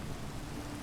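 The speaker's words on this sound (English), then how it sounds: "It's raining very hard." Heavy rain falls in Minecraft, a faint, steady, even hiss of downpour in the background with a soft low rumble and no voices.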